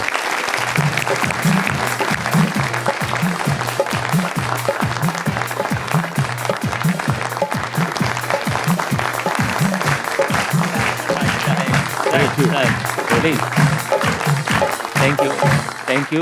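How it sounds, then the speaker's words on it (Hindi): A studio audience at a television Eid show gives a long, loud, sustained burst of applause, with dense clapping continuing steadily throughout and music playing underneath. "जोरदार तालियां"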